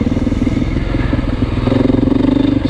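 Steady loud engine of a 2024 Beta 480 RR four-stroke dirt bike, a throbbing mid-pitched chug held close, rising slightly in pitch partway through, with no voices.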